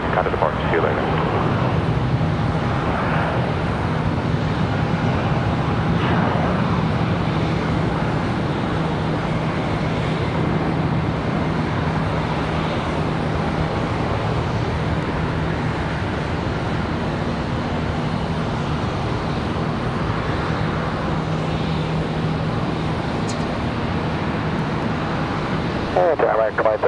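A Piedmont Airlines Embraer ERJ 145LR regional jet departs Charlotte Douglas International Airport as a continuous broad engine roar that holds steady throughout, heard at a distance with talking over it.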